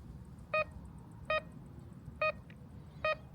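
A Kaiweets Explorer X3 metal detector sounds off on a coin buried 15 cm deep, four short clear electronic beeps at irregular intervals over quiet outdoor background hiss.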